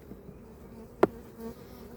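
A faint low drone of buzzing honey bees hums in the background during a hive inspection, broken by a single brief knock or tap midway.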